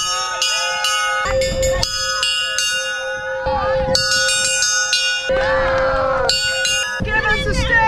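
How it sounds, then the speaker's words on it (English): Ringing bell struck several times at an outdoor festival gathering in Black Rock City, bright sustained tones decaying over crowd babble and people talking. "And you're going to hit the bell"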